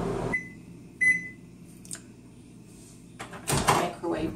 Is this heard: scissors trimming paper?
no